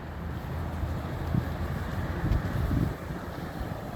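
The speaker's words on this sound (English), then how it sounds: "The wind is sharp as usual." Sharp wind blows outdoors on a cold day, buffeting the microphone with gusty low rumbles that swell and ease irregularly.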